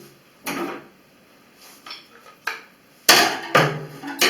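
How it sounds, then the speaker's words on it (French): A small screwdriver pries a part loose from a washing machine door, giving a series of short, sharp clicks and clunks, with several loud snaps near the end. "pour le, le désencastrer, hein, tout simplement, avec un petit tournevis"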